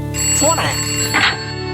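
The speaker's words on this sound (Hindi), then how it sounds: "आपका फोन आया।" A telephone rings with a bright, steady tone in a scene from a Hindi-dubbed action film, heard loudly under voices speaking over it.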